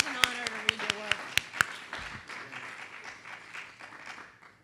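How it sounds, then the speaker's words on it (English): An audience at an open poetry and fiction reading breaks into applause. A few sharp, distinct claps open it, and they swell into a softer, scattered patter that fades away over a few seconds. "give yourself a round of applause"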